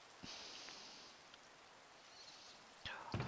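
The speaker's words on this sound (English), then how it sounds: "it's raining! Quick, quick, quick!" Rain falls in the video game Minecraft Sky Factory 3, a soft, faint hiss with a few scattered taps and thuds near the end.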